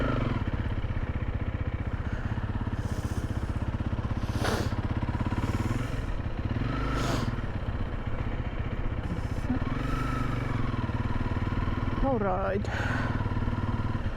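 A motorcycle engine rumbles steadily throughout a solo ride from Finland toward Sweden, loud and close, while someone speaks briefly over the drone.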